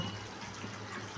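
Water poured into a pot of chicken curry on the stove, a steady faint gushing pour that runs evenly throughout with no talking.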